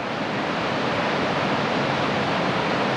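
A waterfall in the Gloucester Tops area of Barrington Tops National Park, heard as a steady, dense rush of falling water with no breaks and no voices.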